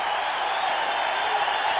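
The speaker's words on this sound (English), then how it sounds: "The crowd is alive in San Antonio." Dense, steady roar of a large football stadium crowd cheering in San Antonio, a continuous wash of voices and applause with no breaks across the moment.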